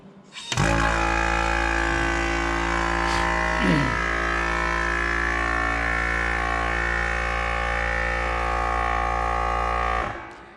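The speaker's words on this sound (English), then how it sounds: "When you're ready to apply suction, move the lever into the green zone." A Clad Boy CB4 vacuum lifter on a wall cladding panel starts up with a steady, loud electric hum and whine as suction is applied, holding constant for about ten seconds before cutting off.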